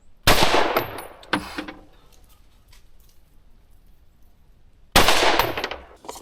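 Two loud, sharp bursts of full-auto fire from a heavy gun at an outdoor shooting range in Austin, Texas, each a rapid rattling string of shots, separated by a quieter gap with faint echo and handling noise.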